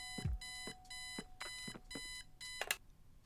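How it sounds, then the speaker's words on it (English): An alarm clock in the adventure game Kathy Rain rings in five or six repeated bursts of bright electronic beeping, evenly spaced and fairly quiet, with no one talking. "Since it's such a long drive, I set the alarm so you won't miss the funeral."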